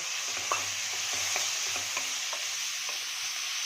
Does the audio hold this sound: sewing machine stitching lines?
no